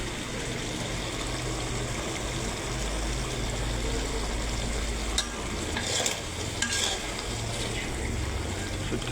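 Dried fish (shutki) stir-fried in a pan, a steady close sizzle with scraping spatula strokes and occasional louder clatters, no talking.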